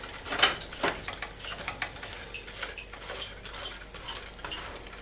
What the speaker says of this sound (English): Keep stirring it though.